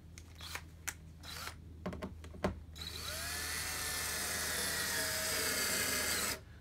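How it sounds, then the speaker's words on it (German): A power drill whirs continuously for several seconds, close and loud, driving a screw into a wooden birdhouse board built from old furniture, after a series of sharp knocks and clicks. "Und setzen die erste Schraube mal rein."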